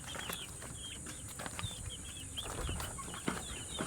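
Several chickens give soft, scattered clucks and short calls at a moderate distance, with steady background noise and a few knocks throughout.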